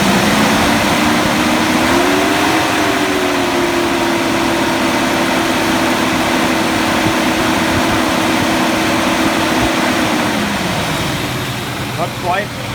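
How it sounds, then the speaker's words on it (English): Mercedes W126 V8 engine running with a newly installed fan clutch, a loud steady drone whose pitch rises as the throttle opens, holds, then settles back toward idle, close to the engine bay. "right now you will still rise in RPM when I hit the gas"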